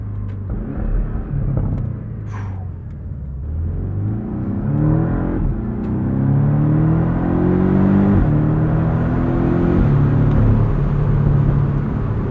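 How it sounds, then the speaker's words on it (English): A 2024 Porsche 718 Boxster Style Edition's flat-four engine revs up loudly through several quick gear shifts, each climb in pitch cutting off and restarting, with a steady droning rumble throughout. "Lightning fast gear shifts when you are in sport and manual mode. Pops and burbles on the down rev."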